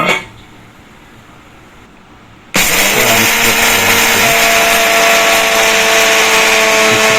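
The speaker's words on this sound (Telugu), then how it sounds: "వేగిన తర్వాత మనం ఇప్పుడు మిక్సీ పట్టుకోవాల్సిన పదార్థాలు కొంచెం సాల్ట్ కలుపు వేసుకోవాలి సో మనము పల్లీలు వేసుకోవాలి" A kitchen mixer grinder grinding peanuts with a little salt: after a few seconds of quiet background it starts abruptly into a loud, steady, high-pitched motor whine with rattling that runs continuously to the end, with no voices.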